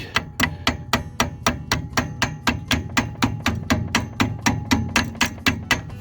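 Steady, rapid hammer blows on a stuck shaft of a John Deere 445 with a 47 snowblower, about three or four strikes per second, loud and close, continuing without pause and with no talking.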